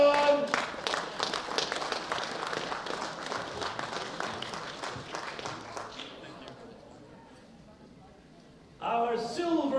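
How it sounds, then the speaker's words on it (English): An arena audience at a world bench press championship applauds a junior bronze medalist, a broad wash of clapping that fades gradually before a voice cuts in near the end. "Big round of applause for Christian"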